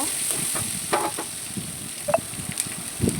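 Curry ingredients sautéing in a pan, a soft continuous sizzle broken by scattered scrapes and stirring knocks, close and moderate in volume, with no talking.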